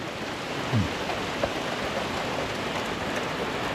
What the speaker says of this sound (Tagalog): So umuulan.